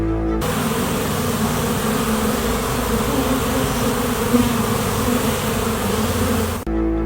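Dense, steady buzzing of many bees on a large bee farm, loud and close, continuing without a break for several seconds.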